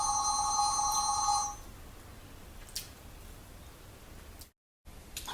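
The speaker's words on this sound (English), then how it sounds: "Can someone answer the damn phone?" A telephone bell rings loudly in a steady, continuous trill for about a second and a half, then stops, leaving quiet room noise with a brief dropout near the end.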